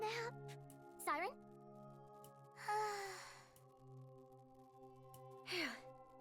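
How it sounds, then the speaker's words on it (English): The video game character Siren breathes in soft, close sighs and gasps, a few separate breaths spaced apart over a quiet hum of background music tones. "I can still hear her breathing."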